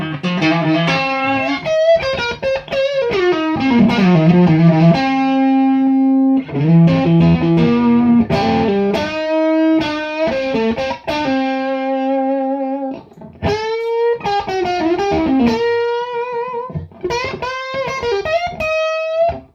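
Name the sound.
electric guitar through overdrive preamp, bluesy tone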